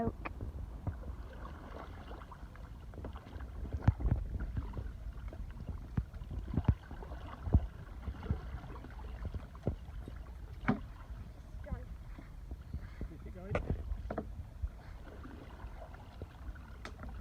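Repeated splashy kayak paddle sweep strokes in water, sweeping and rhythmic, with a few sharp drips and knocks over a low wind rumble outdoors.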